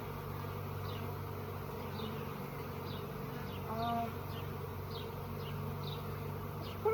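Honeybees buzz steadily around an open hive, a soft, continuous hum that stays low and even with faint rustling near the hive.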